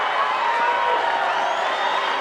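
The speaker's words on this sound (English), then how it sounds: "First time the crowd has really made themselves known here at Rhodes Stadium." A crowd at a college softball game at Rhodes Stadium, Alabama against Minnesota, makes a steady, dense roar of cheering voices that holds at an even level throughout.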